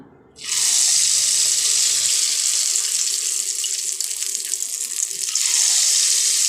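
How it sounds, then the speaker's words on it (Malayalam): Batter poured into hot coconut oil sets off an abrupt, loud, steady sizzle of frying that carries on without a break, close up, with no voices. "എണ്ണ ചൂടായതിന് ശേഷം മാവ് ഒഴിച്ചു കൊടുക്കാം."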